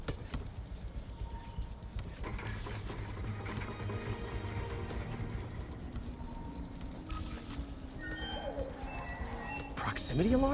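A pigeon coos repeatedly in the Spider-Man Remastered video game, set on a New York City street. The soft, low calls sit within a steady hum of city and traffic ambience, and a sharper sound rises near the end.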